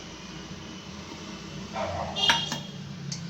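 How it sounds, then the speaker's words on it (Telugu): Chicken being mixed by hand in a bowl for a cornflour fry, giving a few soft wet squelches and light clinks of the bowl, close up over quiet room tone with no talking. "ఇప్పుడు అంతా బాగా కలపెట్టాలండి ఫుల్ ఫుల్ మిక్స్ చేసుకోవాలండి"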